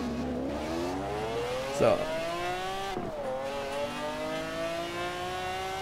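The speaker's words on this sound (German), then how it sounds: "Der Sound. Och, göttlich, dieser V12." A BMW V12 engine in Forza Horizon 4 revs up through rising gear pulls, with two quick shifts breaking the climbing whine, while someone talks over it.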